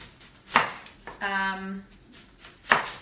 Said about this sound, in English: I'm gonna chop onions and tomatoes that are gonna go in there